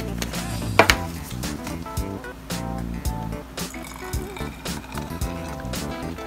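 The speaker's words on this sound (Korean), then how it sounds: "다시 따라줍니다." Thinned model paint poured from one bottle into an empty dilution bottle, a close liquid trickle with small glassy clinks and taps from the bottles throughout.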